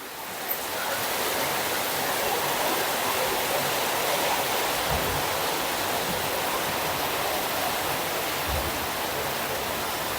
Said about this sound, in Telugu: సౌండ్ వినిపిస్తుందా మీకు వర్షం సౌండ్